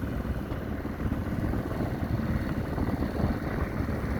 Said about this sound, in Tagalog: merong parating na isang makina